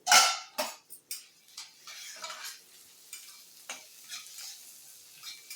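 Cucumber pieces frying in a pan for dosakaya pachadi, with a sharp sizzle as the lid comes off and then scattered spoon stirs and clinks over a faint crackle, close and intermittent.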